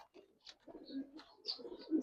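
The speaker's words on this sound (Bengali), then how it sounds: "এটা আমার উড়ানো কবুতর আর এটা রানিং কবুতর" Giribaz pigeons coo in a low, throaty run of repeated calls at close range, with a few brief higher chirps scattered over the top.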